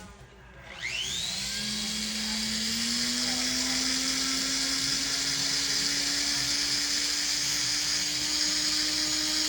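A bench buffing wheel polishing platinum with light gray compound spins up with a rising whine, then holds a loud, steady high-pitched hum and whir throughout.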